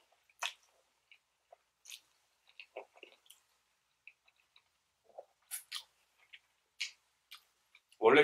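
Someone chews udon noodles mixed with chili tuna, close to the mic. Sparse, soft wet clicks and squishes break a near silence, and a brief voice-like sound comes at the very end.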